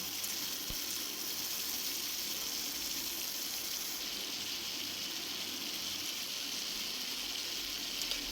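Steady, soft sizzling hiss of red amaranth greens frying in a pan, continuous and even throughout with no talking.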